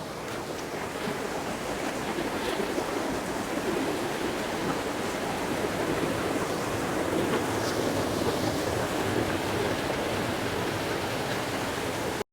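A small waterfall along an off-trail hike at Big Tujunga rushes steadily, a dense, continuous wash of falling water that stays loud and even throughout, with no voices.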